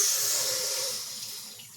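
Water pours steadily from a tap with a bright, hissing splash, gradually softening over a couple of seconds.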